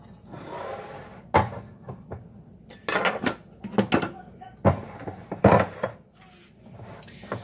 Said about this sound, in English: now I'm going to open these cans of chickpeas